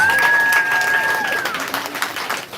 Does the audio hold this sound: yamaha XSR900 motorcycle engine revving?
no